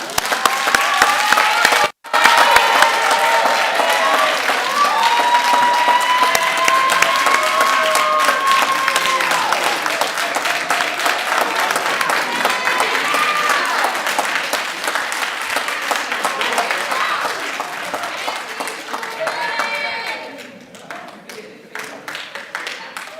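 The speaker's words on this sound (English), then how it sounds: "Let's give our graduates a round of applause." A graduation crowd at the Tar River Academy ceremony claps and cheers loudly and continuously, with voices calling out over the applause before it thins near the end.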